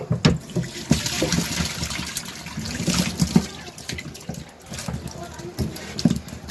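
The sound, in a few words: fish and water poured out of a container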